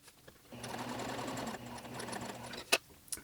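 A sewing machine runs a short steady stitch along a muslin bodice seam, a close, even whir lasting about two seconds before stopping, followed by a couple of sharp clicks and handling noises.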